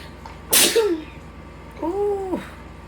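One sharp, loud sneeze breaks a quiet room, followed by a brief voiced exhale and a short vocal sound.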